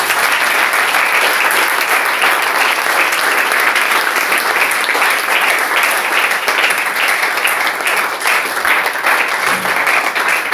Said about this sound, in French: Applaudissons pour le Dieu clair.